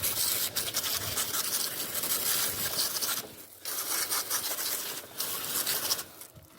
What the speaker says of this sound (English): I'm just gonna go ahead and spray this out.